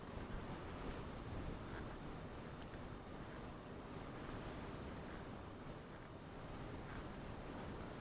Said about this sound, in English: that wind is about to blow me away